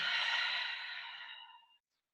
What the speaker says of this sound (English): let's take 3 full breaths in and out of the body. Open mouth exhale